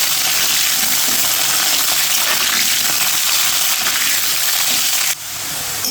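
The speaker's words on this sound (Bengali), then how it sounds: "তেল গরম হয়ে গেলে গরম তেলে আমি ধুয়ে রাখা করলাগুলো ছেড়ে দিব।" Bitter gourd pieces frying in hot oil give a steady, loud, dense sizzle that runs throughout and softens slightly near the end.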